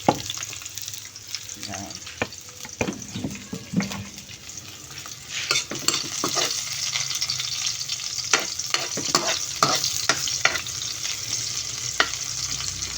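Garlic and onion fry in a pan for an eggplant omelette (tortang talong): a steady close sizzle broken by repeated spatula scrapes and clacks against the pan, with a brief spoken word.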